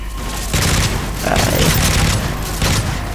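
Gunfire in Call of Duty: Modern Warfare 3 rattles in loud, repeated bursts, dense booming volleys layered over one another with little pause between them.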